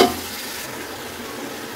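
Yogurt fries with chickpeas and rice in a pot for degi chana pulao, a brief, steady wet sizzle with light stirring, close by and without speech.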